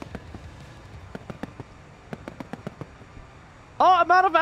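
Aircraft guns fire in a fighter jet flight video game as a string of quick, light pops in short irregular bursts. A voice speaks loudly right after the shooting.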